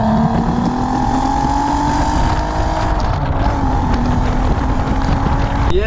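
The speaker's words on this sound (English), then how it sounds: "you can hear that V6 roar through the gears" An Audi A3 3.2 V6 engine, ABT tuned, roars loudly and continuously, pitch climbing and dropping as it shifts through the gears, heard from close by.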